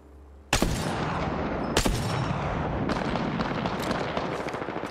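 Heavy gunfire in the Apex Legends battle royale, loud and close: a sharp burst opens the sound, then repeated blasts roll into a dense, continuous barrage with no talking.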